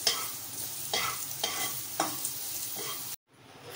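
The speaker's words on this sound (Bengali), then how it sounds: "হালকা করে একটু ভেজে নেব," Light frying in a pan for soyabean pulao, with regular spatula stirring strokes scraping over a gentle sizzle, close by, ending abruptly in near silence.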